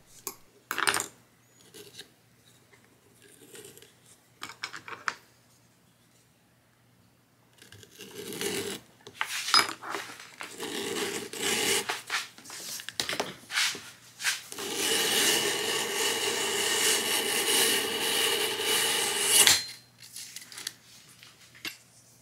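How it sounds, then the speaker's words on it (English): A leather strap for a cartridge belt has its edge shaved with a TandyPro strap edge beveler: soft rasping scrapes come in short bursts early on, then a longer, steady, fairly loud stretch of continuous scraping before it stops abruptly. "I actually preferred simply beveling one edge at a time"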